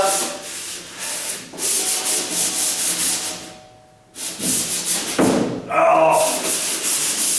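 Hand sanding of a wooden door before painting, taking up dried droplets on the face and edge: steady loud rubbing strokes in long runs, broken by a short pause partway through, then resuming with a few bumps.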